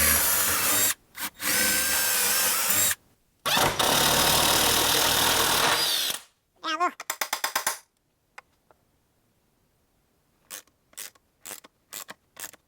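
A power drill drives the screws that mount a wall-mounted pressure washer, whirring loudly in long close bursts, then ratcheting in quick pulses, followed by several short, sharp trigger blips with quiet gaps between.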